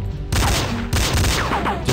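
Pistol gunfire in the game Commando 2, a dense, loud burst of rapid shots with no voices, cracks overlapping continuously across two seconds with short gaps between volleys.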